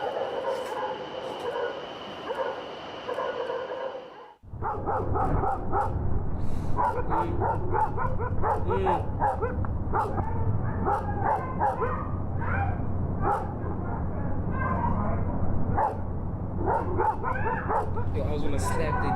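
A dog barks repeatedly and excitedly during a house burglary, loud sharp barks in quick bursts over a noisy background, following a brief stretch of other noise at the start.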